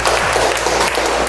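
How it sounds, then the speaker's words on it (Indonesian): An audience claps after a reflection at a teachers' training session, a loud, dense burst of many hands with a low steady hum underneath and no speech. "terima kasih tepuk tangan"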